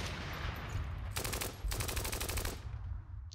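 Two rapid bursts of automatic gunfire in a Steel Panthers wargame battle, each lasting around half a second to a second, over a steady low rumble of background noise, no voices.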